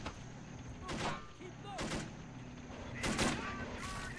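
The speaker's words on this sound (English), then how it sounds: "I hear the Japanese exchanging fire with us" Gunfire exchange between US Marines and Japanese troops during the 1944 Saipan airfield battle in the Men of War: Assault Squad video game, heard as several bursts of shots and distant firing over a steady battlefield background, no talk.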